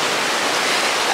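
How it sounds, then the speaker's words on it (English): Ocean water washing at a beach, a steady, dense, close-up rush of surf and splashing that fills the whole moment without pause, with no voices. "In the ocean."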